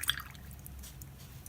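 A paintbrush loaded with pink paint is rinsed in a jar of water, giving a brief, faint swish and drip at the start before near silence.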